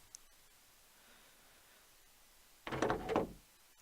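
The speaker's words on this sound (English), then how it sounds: "And then I heard the sound of the front door opening." A front door opens in the Steins;Gate 0 visual novel, a short faint creak and rattle near the end after near silence with a tiny click at the start.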